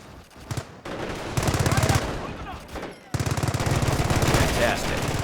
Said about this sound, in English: The MG emplacement will automatically engage.